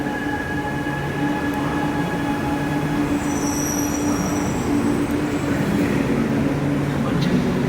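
A Chennai metro train runs at a station platform: a steady low rumble and rolling hum fill the whole stretch, with a faint high squeal partway through and muffled voices under the noise.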